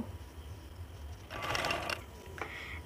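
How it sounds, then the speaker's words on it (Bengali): A sewing machine stitches the edge of a silk blouse, its soft whirring rising into a louder, fast rattling run of stitches for about half a second before easing off, with no voices. "পুরোটা এইভাবে ঘুরিয়ে ঘুরিয়ে আমি সেলাই করে নিব"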